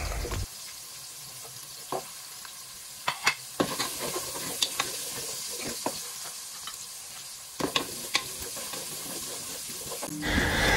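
Carrots fry in a hot pan for kalderetta, a steady sizzle broken by repeated scraping and clacking strokes as they are stirred, close up and fairly loud, with no talking.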